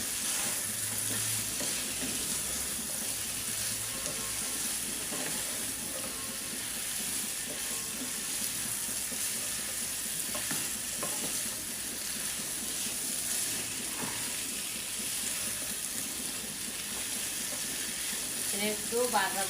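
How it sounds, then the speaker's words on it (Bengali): Yardlong beans are stir-fried in a pan in a Bengali home kitchen, producing a loud, continuous sizzle with steady scraping and stirring throughout, and faint background sounds underneath. "একটু ভাজা ভাজা করে আমি তার মধ্যে পানি দিয়ে কষাইব।"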